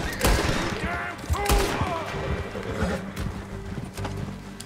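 Gunfire crackles in Red Dead Redemption 2 as close shots and volleys mix with horse hooves and neighing. The chaotic battle noise stays busy and loud throughout.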